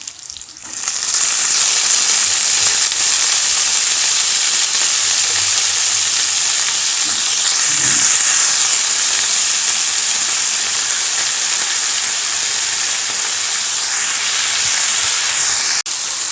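Chopped banana flower frying in a pan with sautéed onions and roasted lentils for a poriyal makes a loud, continuous sizzle and hiss that holds steady for a long stretch, with no one talking.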